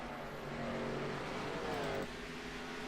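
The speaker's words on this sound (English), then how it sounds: "these cars are going to be loud here at Iowa" Stock race cars at Iowa roar past with a rising engine drone that peaks and cuts off sharply near the end, loud and close under track ambience.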